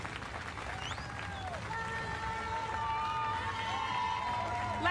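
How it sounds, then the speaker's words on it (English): Sustained audience applause and scattered cheers at the podium of the Cadel Evans Great Ocean Road women's cycling race, steady clapping building slightly louder toward the end, with an announcer speaking over it. "Ladies and gentlemen, keep your applause coming."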